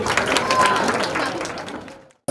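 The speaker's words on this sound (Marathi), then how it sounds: "एकदा जोरदार टाळ्या झाल्या पाहिजेत परत एकदा गणेश दादांसाठी" A crowd at an engagement and sangeet celebration claps loudly for Ganesh, the applause close and dense before fading out abruptly at the end.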